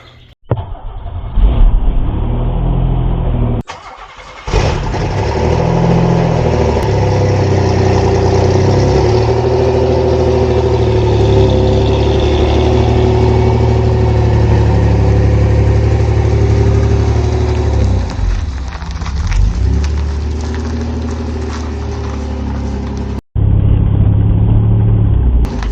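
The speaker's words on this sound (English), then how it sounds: "Come on, Fiero, let's take a ride." A Pontiac Fiero GT engine runs loud and steady as the car drives, with a sustained rumble that dips briefly near the start and again toward the end.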